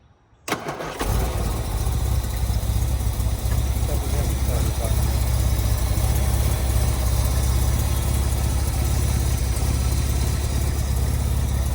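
A 1967 Austin Healey 3000 Mark III engine cranks and catches after a moment of silence, then settles into a steady, low, even idle that runs on without change.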